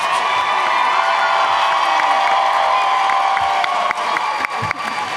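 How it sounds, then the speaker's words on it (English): A live DragonCon audience at a Baldur's Gate Dungeons & Dragons show bursts into sustained applause and cheering, a loud, dense roar of clapping and whoops that carries steadily throughout. "A big round of applause for our fantastic cast"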